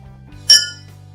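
A drinking glass struck hard with a spoon gives one sharp, bright clink that rings briefly and decays within about a third of a second over a low steady hum.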